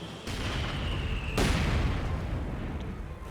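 Battle noise in Company of Heroes 2, with gunfire and heavy impacts hitting units: a steady rumbling din broken by two sharp blasts, the second louder and followed by a sustained roar.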